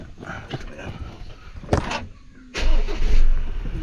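Car engine starting up to warm the vehicle, preceded by a door-like thump and brief mechanical noises, then a louder steady engine running from the midpoint, fairly close.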